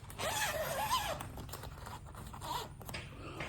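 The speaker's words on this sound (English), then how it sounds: "The zipper. Oh, both of them." A zipper is pulled open in a few scratchy strokes, close by, with some rustling of fabric in between.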